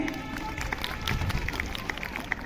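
Children clap together at a women's helpline centre in Jhansi, a quick uneven patter of claps at moderate distance with voices talking over it.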